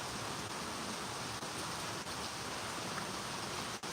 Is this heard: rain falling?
yes